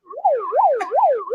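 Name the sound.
siren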